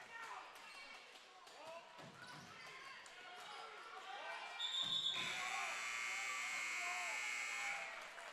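A halftime buzzer sounds at a high school district playoff basketball game against Stratford, a sustained electronic tone rising out of gym crowd noise, ball bounces and a commentator talking.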